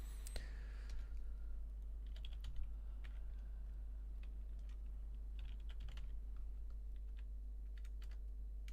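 Someone types on a computer keyboard, a quiet scattered run of light key clicks with short pauses between bursts, over a low steady hum and no talk.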